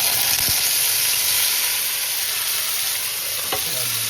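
Cumin seeds hit hot oil for jeera aloo and crackle into a strong, steady hiss that fills the space, close and constant, with a couple of brief clicks and no speech.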